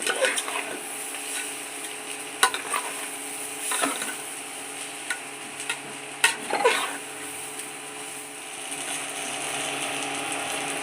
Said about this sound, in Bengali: দেখো চালটা ভেজে নিচ্ছি পোলাওয়ের চালটা আগে